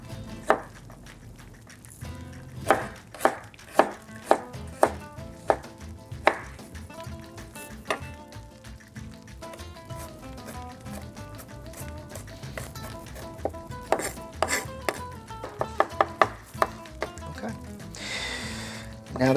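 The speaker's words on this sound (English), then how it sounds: "So, do a rough chop at first." A knife rough-chops garlic and other chili ingredients on a cutting board, with sharp, uneven knocks of varying loudness over a soft tonal background, the strikes clustering densely toward the end.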